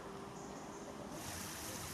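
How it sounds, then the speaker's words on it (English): Small river running beneath a bridge beside a ford, a steady broadband rush of flowing water with some wind noise over the microphone, continuous and fairly close, no talking. "Got a little river running through the bridge and the ford to the right."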